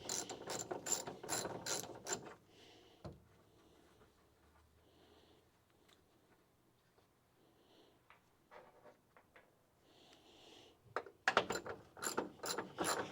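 A ratchet clicks rapidly on a car part during a Charger restoration, with loud bursts of sharp repeated clicks at the start and end and quieter scattered clicks and handling sounds in between.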